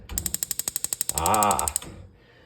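An electric igniter on a propane cooktop snaps in a rapid run of about a dozen sharp, evenly spaced clicks, followed by a brief buzzing hiss before it stops.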